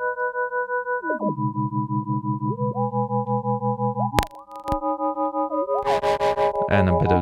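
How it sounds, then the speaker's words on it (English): Sustained Organelle synthesizer tones step through chords, then a sharp click and a burst of gritty, distorted noise from a distortion effect break in near the end. "And a bit of distortion if you really want to."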